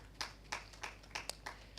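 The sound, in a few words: hand claps from the audience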